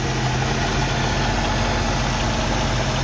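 A 1960 Jeep Willys with a 4.0 litre inline six-cylinder engine idles steadily at close range, a constant even rumble with no other sounds.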